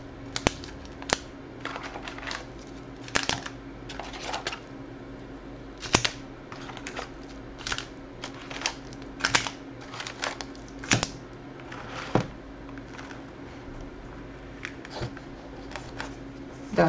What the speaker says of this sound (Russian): Достанем, наверное, мы с вами по каждому так пакетику.